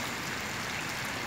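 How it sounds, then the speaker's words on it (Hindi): Heavy rain in Salalah, a steady dense hiss of falling water, even and fairly close, with no voices. "और बड़ी बारिश हुई है आज"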